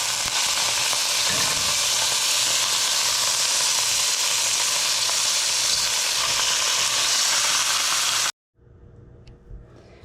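Deer roast browning in a hot pan gives a loud, steady sizzle that fills the air without a break, then cuts off sharply near the end and leaves only a faint clink and quiet room noise.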